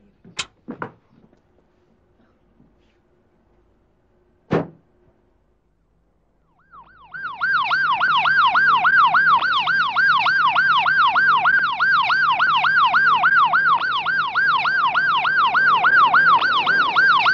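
A wailing ambulance siren starts after a few sharp knocks and sounds, then cycles steadily and loudly to the end, close by.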